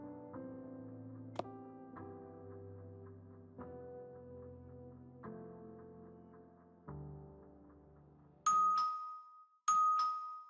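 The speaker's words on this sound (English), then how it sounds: "The doorbell again?" Doorbell in the video game Blue Archive: two bright, ringing electronic chime tones near the end, following a slow sequence of soft sustained piano-like notes.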